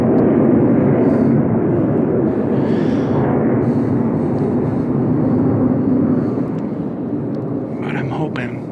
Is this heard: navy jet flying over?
yes